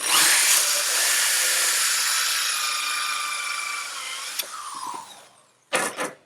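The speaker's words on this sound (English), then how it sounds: "I drill about halfway, 3/4 of the way through, enough where that starter bit goes all the way through." A power drill fitted with a starter bit bores into a wooden board for a storage crate, whining loudly and steadily for several seconds as the pitch sags slightly, then stopping, followed by a brief second burst.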